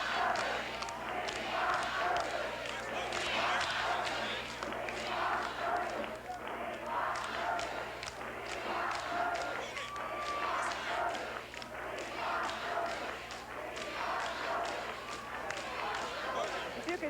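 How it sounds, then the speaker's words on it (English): Election-night crowd at a 1982 political event chants and cheers steadily for a candidate being brought to the podium, a dense, continuous roar of many voices with rhythmic chant pulses, while a broadcaster talks over it. "you can hear them chant now"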